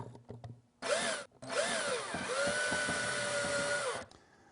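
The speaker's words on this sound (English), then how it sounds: "And then I'm going to drill a hole down there." A high-pitched power drill with a flexible shaft whines in a few short bursts while drilling a hole in a small cabinet, then runs steadily for about three seconds, its pitch dipping and rising under load before stopping.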